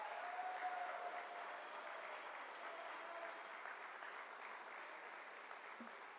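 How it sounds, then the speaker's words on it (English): Steady audience applause for the 2023 honor graduates at a senior awards ceremony, a dense wash of clapping holding evenly throughout at moderate distance with no voices over it. "Ladies and gentlemen, a round of applause for your 2023 honor graduates."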